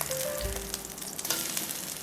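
Beef chunks sear in a hot pan with a continuous, even sizzle and crackle, with a brief stirring scrape near the start.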